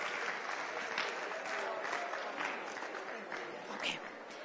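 A conference audience at a summit fireside chat gives a warm, rousing round of applause for Valerie Jarrett, with steady, dense clapping heard from a distance at low level throughout, with some voices mixed in.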